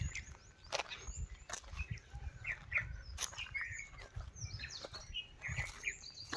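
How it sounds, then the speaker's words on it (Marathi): Birds chirping and tweeting in scattered bursts over a quiet, open outdoor background at an ancient temple in Amirza, Gadchiroli, with faint low rustling and occasional soft steps. "शांत असं वातावरण आहे आणि पक्ष्यांचं किलकिलाट आहे बघा"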